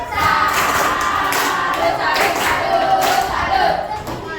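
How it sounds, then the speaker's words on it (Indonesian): A sixth-grade class claps together in a steady, rhythmic pattern, loud and close, with a faint murmur of voices underneath. "Tepuk salut dulu buat Krisna ya"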